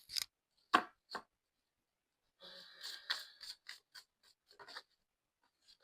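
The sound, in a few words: shuffling cards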